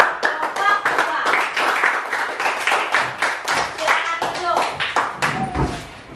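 A group in a classroom teaching session claps in rhythmic, distinct bursts of handclaps, close and lively, with a voice talking over them now and then before the claps thin out at the end.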